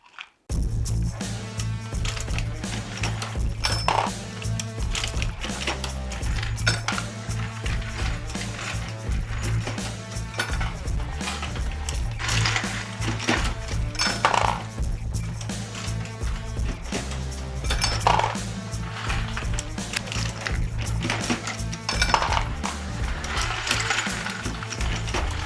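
A Dillon XL750 ammunition reloading press cycles nearly continuously, with rhythmic metallic clanks and clicks of cases and parts over a steady mechanical rattle, close and loud, with no talk.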